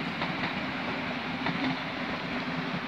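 A long S-Bahn suburban train rolling through Munich-Riem station, a steady broadband rumble and rail hiss with faint rhythmic clatter, sustained throughout without talk.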